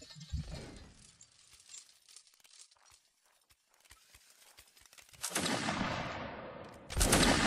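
Gunfire crackles through a multiplayer line battle, scattered sharp distant shots popping irregularly, then a loud sustained roar of massed volleys and noise swells near the end.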